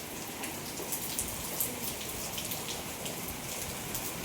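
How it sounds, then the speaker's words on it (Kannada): Heavy rain falls steadily, a dense, even hiss of drops pattering on surfaces nearby, with no voices. "ಅಷ್ಟು ಜೋರು ಮಳೆ ಆಗ್ಯದ ನೋಡ್ರಿ"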